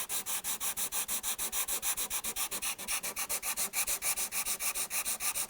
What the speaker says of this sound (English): Try to sand just the area